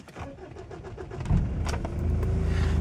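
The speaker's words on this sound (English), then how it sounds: "The starter motor, or something to do with the start, is taking a bit of time. So when you start from cold, you've just got to hold the key and it just chokes its way to life." A 2005 Mitsubishi L200 crew cab pickup with a 2.5 engine starts from cold. The starter cranks in a rapid, uneven rhythm for over a second before the engine catches and settles into a steady, rough idle close by.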